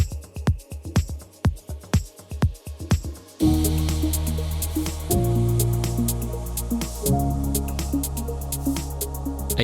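A melodic house track builds with sustained, evolving ambient pads washing underneath a plucked, percussive pattern; after a few seconds a dense, layered texture swells in and holds at a steady, full level.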